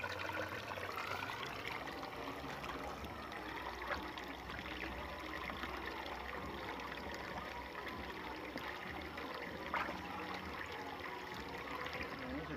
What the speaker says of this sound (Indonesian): Kita buka pipanya, kita keluarkan airnya.